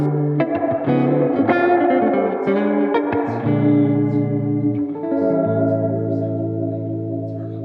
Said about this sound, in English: It's really everything that you need in a big box reverb in a really small unit.